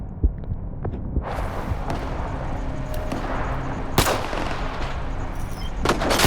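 Several heavy shotgun blasts in S.T.A.L.K.E.R. 2 fired at close range, loud booming shots spaced irregularly over dense background game noise, without voices.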